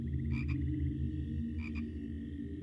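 Two short frog croaks, each a quick doubled burst, sounding about a second apart over a steady low background drone in an animated SCP swamp creature scene.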